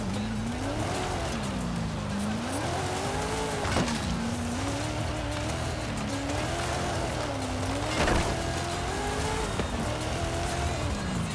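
A car with an automatic gearbox driving in an Xbox Cloud racing game, its engine note rising and falling in smooth repeated sweeps with tire noise, steady and loud with no talk over it.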